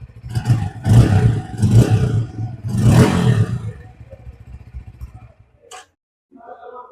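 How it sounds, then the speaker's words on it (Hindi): A Bajaj Pulsar N160 motorcycle's underbelly exhaust rumbles, rising into three throaty revs in a row before dropping back and fading toward a low idle. "आइडल में कुछ इस तरह से साउंड करेगी मोटरसाइकिल। मैं थोड़ा सा रेस करके आपको दिखाता हूँ।"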